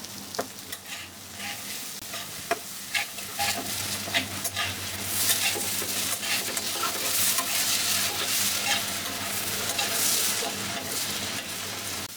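Cumin, nigella seeds, dried chilli and a bay leaf sizzle loudly in hot oil for a prawn curry, with a constant frying hiss and occasional stirring scrapes.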